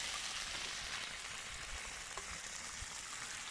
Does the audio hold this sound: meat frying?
yes